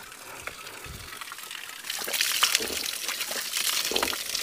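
Water flows and gushes from a village spring in Pana, Chamoli district, as a continuous close splashing stream that swells louder about halfway through.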